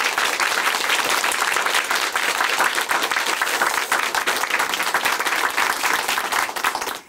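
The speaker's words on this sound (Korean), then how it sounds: "다시 한번 큰 박수로 응원의 박수 보내드릴게요" Dense audience applause at a Korean church broadcast program, loud and sustained clapping from a crowd for about seven seconds before tapering off at the end.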